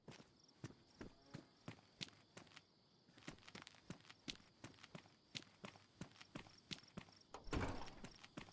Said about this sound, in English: Just thought I heard some footsteps nearby there.